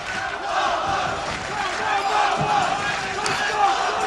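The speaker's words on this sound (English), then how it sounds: "the crowd really trying to get behind him in the last round" Boxing crowd in a fight arena shouting and cheering behind a fighter in the last round, a loud continuous roar with swelling yells over the din.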